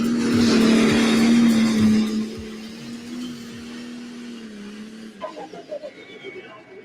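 Engines roaring at a truck and tractor pull, with a loud sustained tone that fades and drops away, followed by sharper irregular bursts near the end and voices mixed under the noise.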